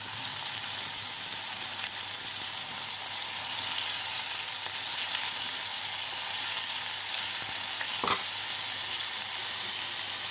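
Bombay duck (lote fish) pakoras coated in flour, cornflour and rice flour batter deep-frying in oil, a dense, even hiss of bubbling that holds steady and close throughout, with one brief clink near the end and no voices.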